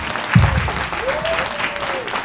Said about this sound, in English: big round of applause for the students